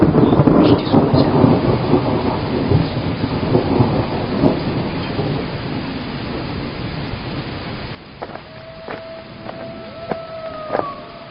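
Heavy rain pours down amid a thunderstorm, dense and loud with rolling thunder for about eight seconds, then cuts to a quieter stretch with sparse sharp sounds and a thin tonal whine.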